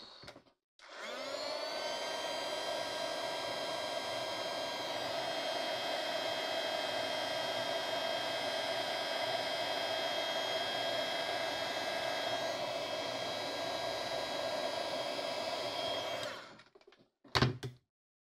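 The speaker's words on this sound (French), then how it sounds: "ce que je vais faire, c'est passer un petit coup de séchage, malgré tout." A hair dryer drying painted mixed-media craft shoes runs steadily at close range for about fifteen seconds, then cuts off abruptly, leaving a couple of faint clicks.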